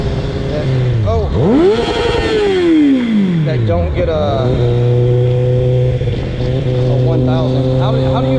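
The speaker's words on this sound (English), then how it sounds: "my motorcycle's loud as fuck." A loud 1000cc motorcycle ridden on the road, close engine roar that revs up, drops and climbs through the gears with a steady drone between, while the rider talks over it.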